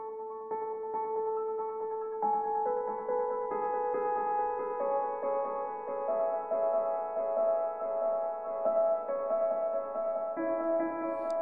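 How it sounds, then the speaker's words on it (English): Layered piano arpeggiators sounding together, run through delays, reverbs and an Audiomatic tape filter, give a soft, sustained, shimmering wash of overlapping tones that shift chords steadily, with no voices. "So I set that up on a piano, and then I had a couple arpeggiators running simultaneously,"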